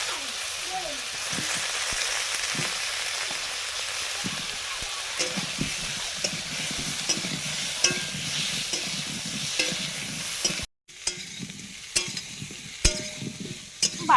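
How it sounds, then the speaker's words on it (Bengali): Cauliflower florets roast in butter in a pan, a continuous soft sizzle with intermittent scraping and stirring knocks, brief pause then resuming, under occasional quiet talk. "বাটার দিয়ে ফুলকপিগুলো রোস্ট করে নিচ্ছি।"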